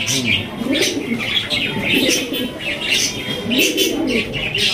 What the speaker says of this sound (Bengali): বিশাল সাইজের লাহোরি কবুতর